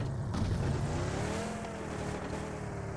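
A vehicle drives across the Miramar map in PUBG, its engine a steady droning roar with a shifting pitch, heard alone without talk.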